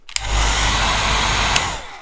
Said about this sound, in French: Et même si l'air du sèche-cheveux est chaud, il refroidira bien plus vite le café que votre souffle à vous